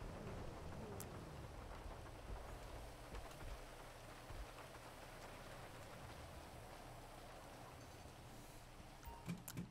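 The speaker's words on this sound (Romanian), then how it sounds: "s-a pus ploaia asta pe noi, pe bune" Steady rain falling in GTA 5 on a FiveM roleplay server, a constant soft hiss of drops with faint scattered taps and a few louder knocks near the end, heard alone without talk.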